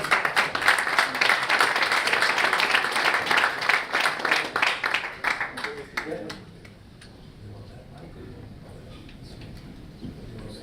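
Audience clapping: dense, loud applause for several seconds that thins into scattered claps and fades, with some background talk.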